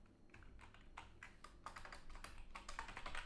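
Fast typing on a computer keyboard while writing game code, with dense, steady key clicks that grow busier and louder toward the end, heard alone and close.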